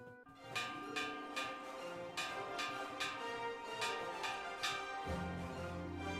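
Bright, ringing chimes of bells in a video game, struck in a loose repeating pattern over a soft sustained musical backdrop, moderately quiet.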